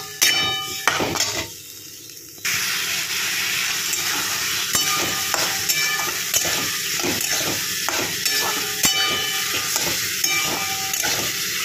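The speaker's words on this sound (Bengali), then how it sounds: "ভালো করে আলু পটলের সঙ্গে কষিয়ে নিতে হবে।" Masala paste is sautéed with potato and pointed gourd in a pan, making a loud, steady sizzle and hiss broken by repeated clinks and scrapes of stirring, close up with no voices.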